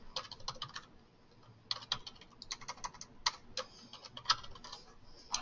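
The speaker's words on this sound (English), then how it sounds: "We'll just type in a name." Typing on a computer keyboard at a desk: quick, uneven bursts of light key clicks with short pauses, close and fairly quiet, no talking.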